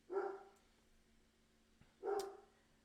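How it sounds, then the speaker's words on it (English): Dogs barking indoors in the background during a video game session: two separate rounds of barking about two seconds apart, faint and muffled, with quiet in between. "My dogs are barking."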